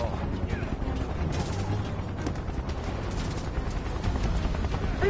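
A video game shootout rages with dense, continuous gunfire and bursts of automatic weapons, loud and chaotic, mixed with shouted voices and game dialogue.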